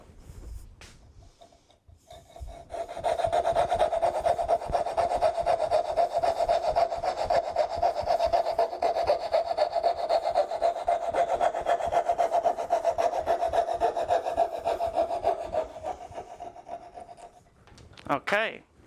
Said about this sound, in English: I'm going to remove the center with the fret saw.